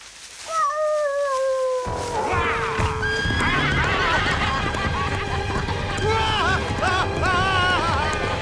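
A cartoon horse whinnies in long, wavering calls, then galloping hooves and more neighing build into a busy, lively scene with music-like tones and French voices mixed in.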